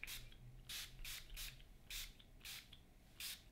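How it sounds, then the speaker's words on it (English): Several short hissing bursts of sea salt hair spray, about six quick sprays in an uneven rhythm, close and fairly quiet. "I'm gonna spray this all over my hair."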